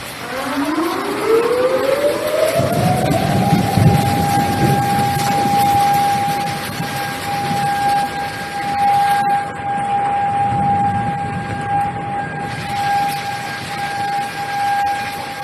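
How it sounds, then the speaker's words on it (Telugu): A civil defense warning siren wails in Japan during flood red alert, rising from low to a long steady loud tone over distant rumbling background, continuing without voices. "ఆ సైరన్లు మోగుతున్నాయంటే అక్కడ రెడ్ అలర్ట్ తాలూకా ఒక ఆ సైరన్ అని చెప్పాలి"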